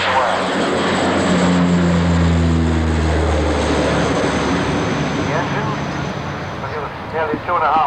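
A twin turboprop airliner derived from the ATR 42, about 2,500 shaft horsepower per engine, flies past at the 1990 Farnborough air show: a loud sustained propeller and engine drone with a falling tone, while a commentator talks over it.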